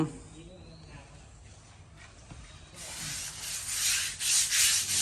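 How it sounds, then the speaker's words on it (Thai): Tile is scrubbed with water and a cleaning solution to lift grout and cement stains. After a quiet stretch with faint talk, rhythmic rasping strokes start midway and grow close and loud. "เราก็จะขัดหน้าอีกรอบนึงนะครับผม"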